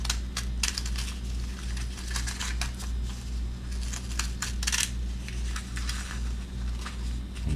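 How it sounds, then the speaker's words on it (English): Pinking shears snip through fabric while trimming the edge of an apron piece, a run of quick crisp clicks and crunches in irregular bursts, close up over a low steady hum. "I would just take the pinking shears and just run them"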